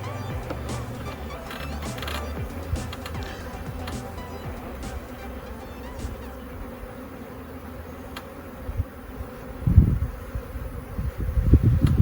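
A clustered swarm of honeybees hums close by in a dense, continuous buzz, with occasional handling bumps and rustles growing louder toward the end.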